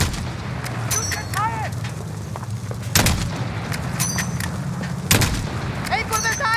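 Gunfire in Call of Duty Modern Warfare 2019 plays as loud booming shots and bursts spread across the scene, with a voice shouting orders over the firing.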